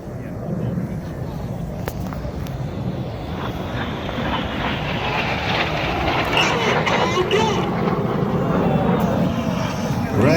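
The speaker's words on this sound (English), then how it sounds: "In from the left and the right with a closing speed of over 700 miles an hour, the aircraft will pass 100 feet apart" Red Arrows jets making a head-on crossing pass at an airshow, a broad roaring rush that swells steadily over about ten seconds, loud and close with wind buffeting, while a commentator talks over it.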